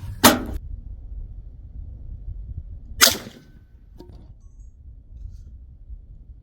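A .45 caliber air gun fires two sharp, loud cracks about three seconds apart, then a fainter knock follows in a quiet room.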